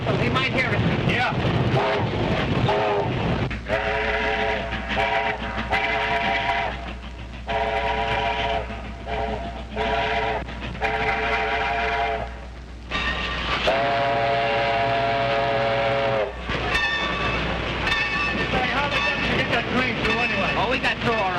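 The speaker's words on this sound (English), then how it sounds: "Give Dad the whistle. He might hear us." A steam train's whistle blows in several long, loud blasts with pauses between them, over a rumbling train in a rail yard. Voices are heard around the blasts in a 1932 mystery thriller.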